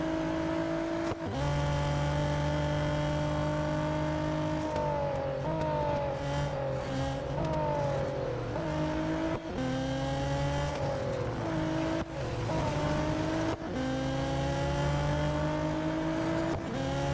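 A McLaren race car in Real Racing 3 roars steadily at high revs, its engine tone stepping up through repeated gear shifts as it speeds away, loud and continuous with no talk.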